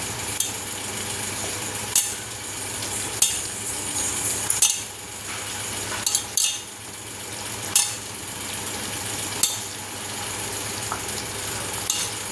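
Chicken being mixed with salt and masala in a bowl, repeated sharp clinks of a utensil against the dish at irregular intervals over a soft, steady background hiss, close by.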